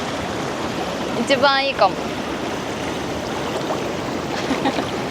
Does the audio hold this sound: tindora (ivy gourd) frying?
no